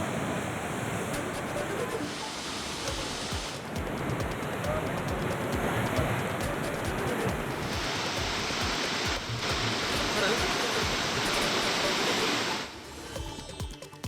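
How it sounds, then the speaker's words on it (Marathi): Large, high sea waves crashing onto the shore at high tide, a dense, continuous roar of surf that holds steady throughout and eases off near the end. "मोठी भरती आहे, त्यामुळे उंच अशा लाटा उसळत आहेत"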